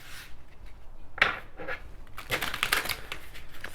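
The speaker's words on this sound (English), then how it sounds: "But let's do some shuffling." Watercolor tarot cards are shuffled by hand at close range, with soft riffling bursts and papery slaps in short uneven clusters.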